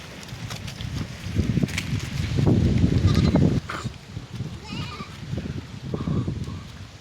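Goats on a small farm in the Kenyan countryside bleat in short intermittent calls over rustling and movement as the herd is led home, with a dense louder stretch in the middle.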